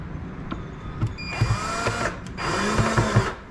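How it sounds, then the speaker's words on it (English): Power drill driving screws into a Blackstar Artisan 30 amp cabinet while the bit bounces, heard as two sustained whirring bursts with intermittent rattling knocks, close and moderately loud. "I hate when I hear the bit bounce."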